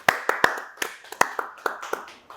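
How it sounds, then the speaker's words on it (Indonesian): A few people clap unevenly at an indoor talk-show event, about a dozen separate sharp claps spread across two seconds, close and moderately loud with no crowd swell. "Tepuk tangan."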